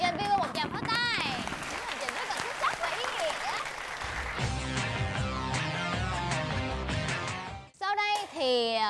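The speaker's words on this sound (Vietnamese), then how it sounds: "Mọi người cho anh Thiên Vương một tràng pháo tay." Studio audience applause for a weekly winner on a Vietnamese variety game show, a steady burst of clapping mixed with cheering voices and music, cut off near the end before a host's voice returns.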